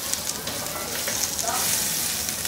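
Chicken pieces frying in oil in a frying pan for a chicken wrap, a dense, even, close sizzle that stays loud and steady throughout, with no voices.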